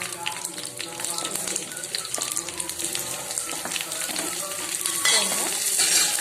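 Close, busy sizzling of curry leaves frying in oil, with scattered pops and scraping stirs crackling over the hiss.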